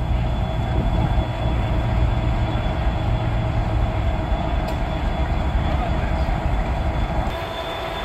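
At a railway museum during a diesel event, a diesel locomotive rumbles steadily at a moderate distance, with a low engine drone and faint rail noise that eases slightly toward the end. No clear talk is heard.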